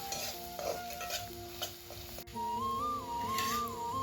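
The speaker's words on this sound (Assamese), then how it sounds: "এতিয়া মায়ে হাঁহ মাংস আৰু বাঁহৰ গাজখিনি বনাবৰ বাবে কেৰাহীখনত পিঁয়াজখিনি দি দিছে আৰু লগতে প্ৰয়োজন অনুসৰি হালধিখিনি দি দিছে" Onion and turmeric frying in a wok for duck meat with bamboo shoot, a steady soft sizzle with stirring scrapes, and a whistling tone rising over it in the second half.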